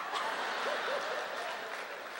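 Audience applause at a comedy show, a dense steady wash of clapping from a crowd throughout, with a faint voice briefly audible beneath it.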